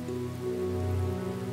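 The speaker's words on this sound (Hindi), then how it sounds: "लगता है बारिश और तेज हो रही है।" Heavy rain falls as a steady, dense wash of sound with a low, constant hum beneath it, even and unbroken throughout.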